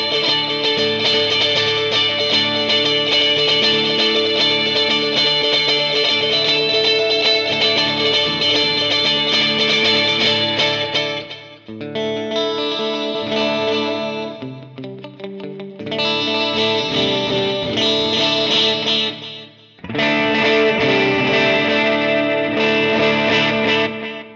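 An electric guitar through a Fractal preset modelled on a signature rock guitar tone, with dotted-eighth delay repeats cascading in a shimmering rhythmic pattern. The part is loud and driven, with brief breaks and a washy, chorused tail, and no talking.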